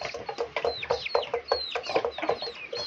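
A rooster gives repeated short clucks and squawks at close range, a busy, uneven run of calls in a farmyard setting with no talk.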